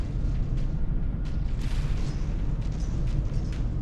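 Artillery shells pounding a battleship in the naval combat game From The Depths, with a dense, continuous rumble of blasts and impacts layered into one loud roar.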